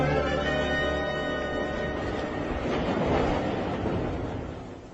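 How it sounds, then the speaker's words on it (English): A train rumbles and clatters along at a steady pace on a rail journey, a continuous close rolling roar that slowly fades at the end. "I've never had a more uncomfortable train journey."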